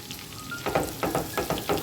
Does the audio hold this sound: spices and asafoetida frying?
yes